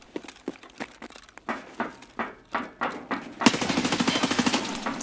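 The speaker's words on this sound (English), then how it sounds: "he's just shooting non-stop. The MK guy" Continuous automatic fire from an MK rifle in Escape From Tarkov, heard first as spaced, moderately distant bursts that build into a dense, rapid stream of shots near the end.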